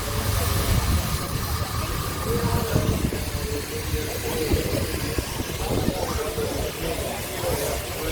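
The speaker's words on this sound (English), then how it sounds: "We're in the ring with the traction engine, these magnificent pieces of engineering" A steam traction engine rumbles and chugs steadily at an outdoor rally, loud and continuous throughout, with a dense mechanical clatter and no voices standing out.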